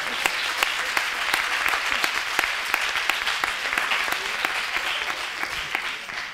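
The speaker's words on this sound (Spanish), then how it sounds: "Aplauso, por favor." Dense, steady applause from an audience at a talk by former biotechnology students, many hands clapping continuously with a few sharper individual claps standing out, no speech over it.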